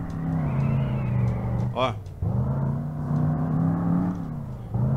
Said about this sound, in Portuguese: Apesar dela tá acelerando muito.